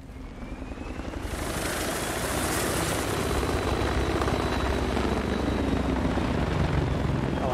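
A V-22 Osprey tiltrotor aircraft in the video game Battlefield 3 roars in, its deep throbbing drone swelling over the first seconds and then holding loud and steady, with no talk.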